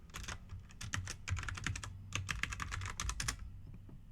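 Quiet bursts of typing on a computer keyboard while working at a command line, rapid irregular keystrokes in clusters with brief pauses, close and alone.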